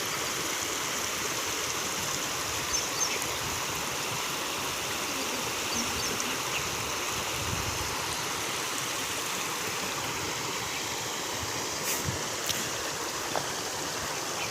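A steady, full rush of an overflowing stream after a cloudburst and heavy rain beside farm fields fills the scene continuously, with faint insect buzzing in the background.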